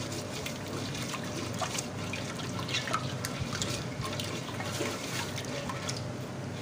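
Spices mixed by hand into a chicken leg marinade, wet squelching and sloshing, steady and close throughout.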